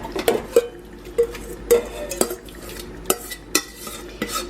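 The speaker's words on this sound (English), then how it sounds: "into our pot, we're going to add our crushed blueberries" Crushed fresh blueberries tipped into a cooking pot for jam, with a series of sharp clinks and scrapes of a utensil against the pot at an irregular rhythm, close and fairly loud, with no talking.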